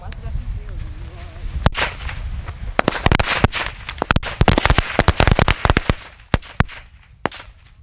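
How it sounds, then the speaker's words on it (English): Island Dragon firecrackers go off in a rapid string of sharp, loud cracks and pops, dense and irregular, after a faint crackle of fuse, ending with a few scattered final bangs outdoors. "Island Dragon Fireworks."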